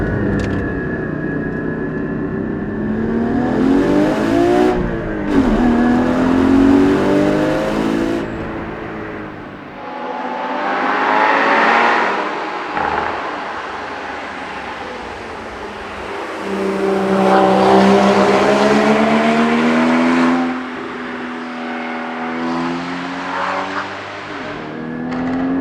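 A Porsche 981 Cayman GT4 engine accelerates hard and downshifts through corners on a Black Forest road, loud and close, with repeated rising revs, sharp shifts, and drops in pitch.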